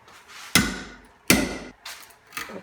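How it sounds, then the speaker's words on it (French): Three sharp, loud metallic strikes with decaying rings at roughly even spacing, then a softer fourth, as a small weld on a transformer is cut to split it apart, heard alone without talk. "il va falloir que je vienne couper cette petite soudure pour me laisser séparer le transformateur en deux"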